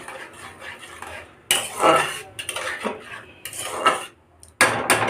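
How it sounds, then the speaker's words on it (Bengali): Potol curry with yogurt and spices is stirred in a pan, utensil scraping and clinking against the metal in several close, vigorous bursts separated by brief pauses. "আমি এবার ভালো করে নাড়ব"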